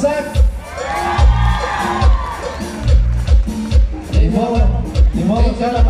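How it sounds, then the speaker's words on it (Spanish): An audience at a Tropicalísimo variety dance in San Juan Bautista Coixtlahuaca, Oaxaca, Mexico, cheers and whoops for Isaac over pounding, rhythmic band music with steady bass thumps. "El aplauso para Isaac"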